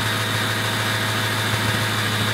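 A Ford Powerstroke diesel engine idling after an additive treatment, a steady, even, close rumble with a constant low drone and no speech.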